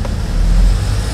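A manual car's engine drones loud and close as it accelerates in second gear during a driving lesson, a steady low hum rising slightly.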